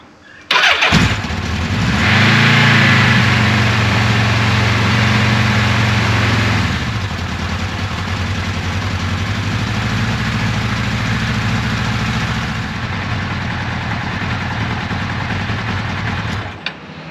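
A motorcycle engine cranks and catches, revs briefly, then settles into a steady, loud, close idle that runs on evenly before cutting off at the end, with no talking.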